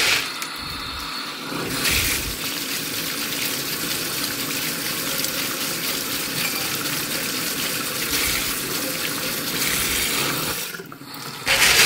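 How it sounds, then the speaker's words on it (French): A running tap gushes steadily as clay pebbles are rinsed under it, a loud continuous water rush that briefly cuts out near the start and again near the end. "je vais aller chercher les billes d'argile, je vais les rincer"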